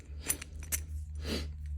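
Lock change keys jangle together in a few short metallic clinks and one longer rattle, close and fairly quiet over a low background hum.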